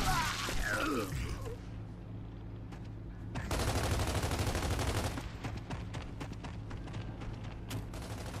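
Bursts of rapid automatic gunfire and sharp shots ring out in a King of the Hill match of Gears of War 3 on the Cove map, dense fire with impacts and a steady game background.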